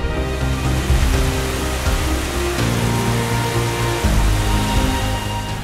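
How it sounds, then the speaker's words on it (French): Waterfall over 20 metres high in the Orkhon Valley, Mongolia, roaring as a steady, loud rush of falling water that runs unbroken throughout, partly under music with shifting chords. "Cette cascade qui fait plus de 20 mètres de haut a été formée à la suite d'éruptions et de séismes."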